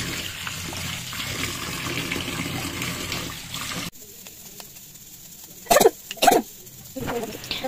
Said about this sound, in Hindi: भिंडी को पहले अच्छे से धो देंगे